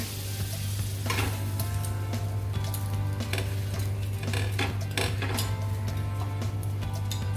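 Chicken sandwich frying in butter in a pan: a steady, close sizzle runs throughout, with a constant low hum beneath and scattered clicks and scrapes from a utensil against the pan.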